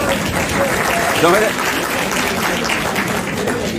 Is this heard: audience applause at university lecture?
yes